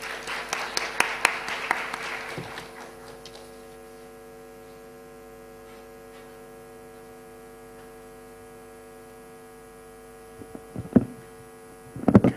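An audience at a seminar session applauds to welcome a speaker. The clapping is brief and modest, dies away within a few seconds and leaves a steady electrical hum, with a few louder knocks near the end.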